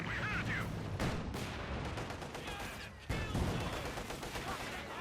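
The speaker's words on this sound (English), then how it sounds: "We've got machine gun bunker firing away." A machine gun bunker fires in the Company of Heroes 2 strategy game, dense rattling gunfire and battle noise with bursts and impacts under a commentator's voice.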